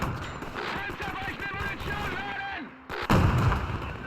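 A tank firing in the video game Men of War 2, a loud cannon blast near the end following a stretch of game ambience and low background noise.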